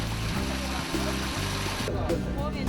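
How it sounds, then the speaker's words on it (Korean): Maesaengi seaweed is washed in water at an island seaside worksite, giving a continuous sloshing, trickling wash with a few splashes, fairly faint and steady throughout. "그래서 이제 세척하고 있는 중입니다"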